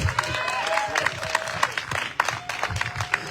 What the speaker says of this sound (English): a thunderous applause for John Moss